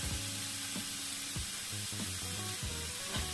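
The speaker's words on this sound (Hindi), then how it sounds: "हम अपने प्याज को हल्का सा भूनेंगे।" Onions lightly frying in a pan over a medium flame give off a soft, continuous sizzle, quiet and steady throughout.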